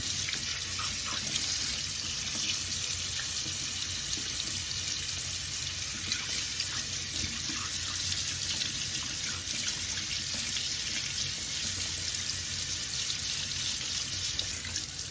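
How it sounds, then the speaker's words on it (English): Tap water runs steadily into a sink as a makeup brush is rinsed with soft swishing, a constant, moderately quiet stream without any talking. "Just keep swishing it until your water runs clean."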